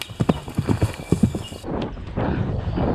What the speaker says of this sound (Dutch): Knap paard!